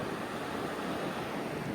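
Sea waves at high tide make a steady, broad washing roar with no distinct breaks, heard alone without voices.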